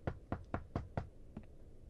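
A run of five quick, solid knocks on an apartment door in The Wolf Among Us is followed by a softer, lighter pair after a short pause.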